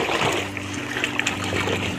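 Water gushes steadily into a tank on a farm and spills over the top, a loud, close, continuous rushing splash with a low motor-like hum running underneath.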